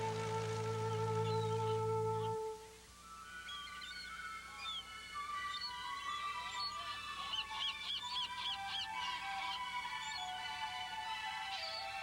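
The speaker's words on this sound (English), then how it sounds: "a huge bird sanctuary where we find millions of seagulls, puffins, and other seabirds nesting in the rocks" A crowd of seagulls, puffins and other seabirds calls over a steady background murmur at a nesting colony on Værøy, Norway, with overlapping squawks and cries, following a low tonal hum at the start.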